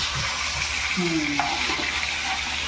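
Fish frying in a pan, a close, steady sizzle and crackle of hot oil that holds throughout, with a brief faint voice-like tone partway through.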